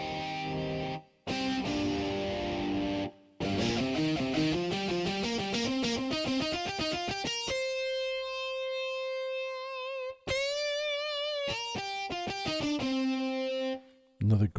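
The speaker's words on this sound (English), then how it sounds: "Another great guitar. Distortion lead 2." A Medeli AKX10 keyboard's distortion lead guitar voice plays sliding, bending notes and sustained tones with warbling vibrato, with brief pauses between phrases and no talking.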